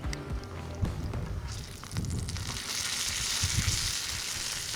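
Bacon sizzles on a Blackstone griddle outdoors in a steady, moderately loud crackling hiss, with a few soft clanks and scrapes from handling near the start.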